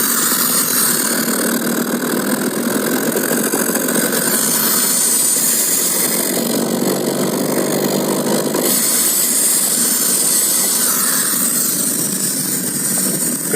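Car engine running loud and close at around 1000 rpm while cold, with a steady mechanical drone and a swell in the middle as throttle is applied, then settling back.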